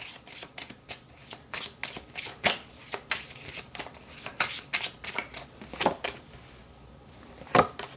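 Tarot cards are shuffled by hand in a quick run of crisp riffling bursts and soft slaps, close and steady, with no voices over them.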